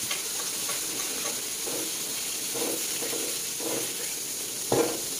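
Shredded coconut serundeng sizzles and hisses steadily in a wok, with soft scraping strokes of a spatula stirring it at irregular intervals and one sharper scrape near the end.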